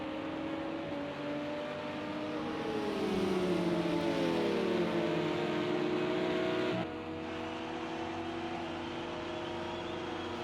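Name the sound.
Porsche race cars at Daytona, from a racing video game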